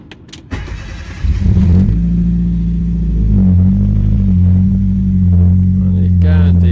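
Fiat Punto 75 with its 866 engine firing up and settling into a steady, deep, close idle hum with a slight rev rise, after brief starter noise and clatter.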